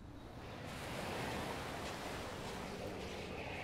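Ocean waves at the seaside make a steady, full wash of surf that swells slightly and holds at a moderate level throughout, with no voices over it.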